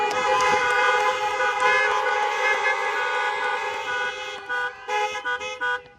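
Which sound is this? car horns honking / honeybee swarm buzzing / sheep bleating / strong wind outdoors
car horns honking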